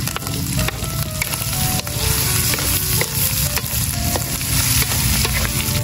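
Red and green chili peppers fry in a hot pan, a dense continuous sizzle with a utensil scraping and clinking as they are stirred, close and loud.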